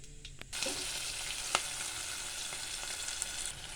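Oil sizzling hard in a pan as cumin and mustard seeds fry, a steady crackling hiss broken by a few sharp pops, close and alone with no voices.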